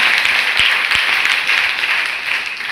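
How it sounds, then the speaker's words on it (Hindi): Dense applause from an audience at a college NCC wing event on the Viksit Bharat 2047 plan, a steady wash of many hands clapping close by, with two sharp thumps near the start. "आप जोरदार तालियां बजाइए"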